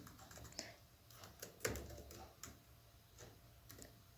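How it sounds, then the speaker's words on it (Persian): Light, uneven typing on a computer keyboard, with a dozen or so quiet key clicks and one louder keystroke heard alone at close range. "خب من الان میخوام بنویسم"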